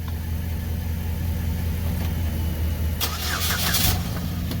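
A Saturn Ion's engine cranks and catches amid steady loud mechanical noise, with a short burst of cranking partway through over a constant low engine drone.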